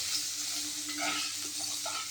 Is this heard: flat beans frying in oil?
yes